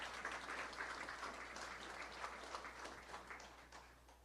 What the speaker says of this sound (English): I want to hear a big, big round of applause for Bayview.